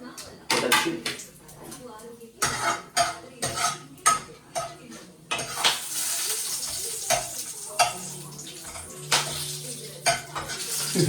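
Whole spices (cinnamon, cloves and bay leaf) crackle and sizzle in hot oil while a metal spoon scrapes and clinks against the pan; a voice talks intermittently over the cooking.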